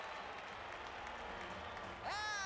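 Stadium crowd in the video game Blood Bowl 2 roars and cheers as a steady, fairly faint wash, then a shrill referee's whistle for half-time cuts in near the end.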